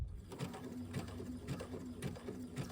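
A sewing machine stitches a rope bowl in a steady run of rapid mechanical whirring, with a rhythmic thump about every half second; the motor hum stays close and continuous, with no talking.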